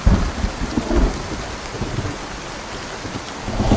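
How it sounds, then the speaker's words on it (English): Heavy tropical storm rain pours down steadily at a motocross rental house on the Carolina coast, with low thunder rumbles swelling near the start and end over the constant wash of rain. "we got like a tropical storm here at the motocross Airbnb, and it has been absolutely dumping rain all day"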